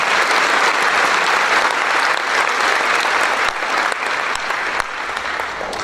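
Audience applause for the Allouez Village Band at a concert, a dense, steady wash of clapping that holds loud and even throughout, easing only slightly toward the end.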